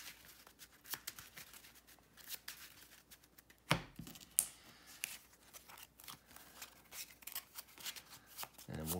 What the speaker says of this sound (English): I'm going to shuffle that up right now